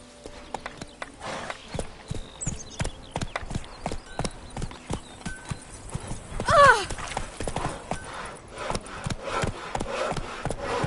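Hooves clip-clop in a quick, steady rhythm as a horse gallops in The Witcher video game, with a short whinny partway through and voices faintly beneath.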